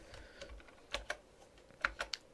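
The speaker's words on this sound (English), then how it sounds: "So I've got to move the keyboard here." A computer keyboard is shifted across a desk, giving quiet scattered clacks and a few sharper knocks in two brief clusters, close by with no talking.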